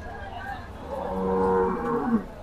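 A local desi cow moos at a rainy cattle market in Bangladesh, one drawn-out, rising and falling low call heard close against a soft background murmur.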